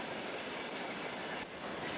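Trans-Siberian train passing on rails by Lake Baikal in deep winter cold, with continuous clickety-clack from the wheels, occasional metallic squeal, and a brief dip in loudness before the rolling resumes.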